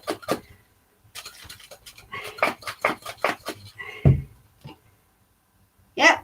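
A jar of cream shaken by hand to make butter gives a rapid series of sharp rattling thumps in bursts, pausing between rounds of shaking, with a final louder knock.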